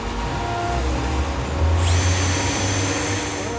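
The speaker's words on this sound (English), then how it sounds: "we've got the cordless drill. We're going to run a 5/16 drill bit." A cordless drill with a 5/16-inch bit spins up partway through, drilling into a Toyota Hilux side step, a steady high whine over low motor hum, close and fairly loud.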